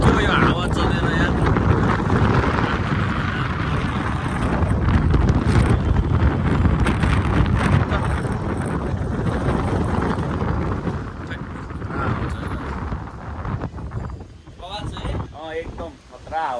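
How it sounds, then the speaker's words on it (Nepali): Strong wind gusting hard around a microphone outdoors in Bhimphedi, a loud continuous roaring buffet that rises and falls, easing slightly near the end. "एकदम खतरा हावा चलिरहेको छ"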